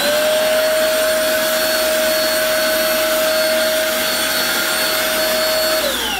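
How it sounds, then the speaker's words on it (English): A Stylecraft Studio blower for cleaning out clippers runs loud and close with a powerful, steady whine and rushing air. It winds down slightly near the end and no one speaks. "It says Studio SC here, Studio Blower."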